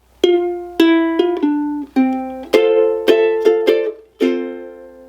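Ukulele amplified through a small pickup, picking a short melody phrase; about a dozen bright plucked notes ringing in an uneven rhythm, close and clear with no voices.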